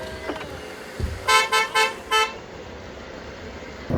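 Four short, bright car horn honks in quick succession, fairly close, over low road and engine noise, sounded at a dog ahead on a road in Jeju, South Korea.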